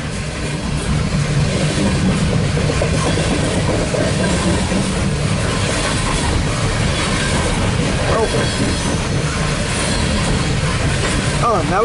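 A loaded CSX coal train rumbles past steadily and loudly for the whole stretch, with rhythmic wheel clatter and a faint voice underneath.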